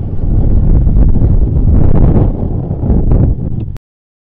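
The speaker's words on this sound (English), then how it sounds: "The wind got so bad I couldn't even keep my tripod from falling over with it anchored down" Strong wind roars across an outdoor microphone during a flight test of an Autel Evo Lite Plus drone. The buffeting is loud, continuous and close throughout, then cuts off abruptly near the end.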